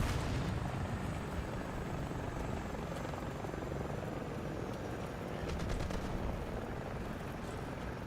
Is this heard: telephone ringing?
no